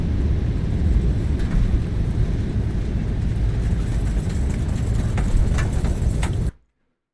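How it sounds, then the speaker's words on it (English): An airliner's runway rollout in the X-Plane 12 flight simulator gives a steady, dense rumble of wheels and engines with faint rattles, then cuts off abruptly to silence. "let's continue listening to this runway rollout sounds here"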